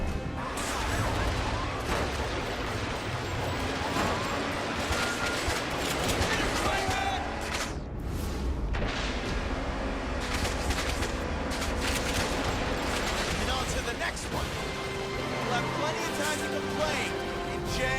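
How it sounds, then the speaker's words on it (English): Combat in The Amazing Spider-Man 2012 video game as Spider-Man web-swings and fires web shots at thieves: a dense, loud, continuous stream of impacts, crashes and whooshes under steady game music, with someone talking over it. "watch now as I use a combination of web swing and WebRush and web shot to take these thieves out of action"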